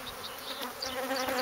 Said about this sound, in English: I still have bees inside my suit.